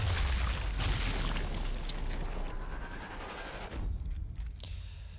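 Masked sniper rifle shot in Sniper Elite 4, a deep booming report that rolls through dense game ambience and fades into a quieter tail near the end.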